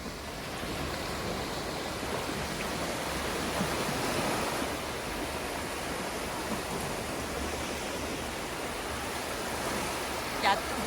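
Surf breaking steadily on a shallow beach at Geumil Island, a continuous broad wash of waves with no distinct individual crashes, fairly loud and close throughout.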